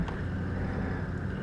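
Four-wheel-drive LandCruiser 40 engine idling in 2H while crawling over Simpson Desert sand on the Madigan Line, a steady low rumble with wind buffeting the microphone throughout.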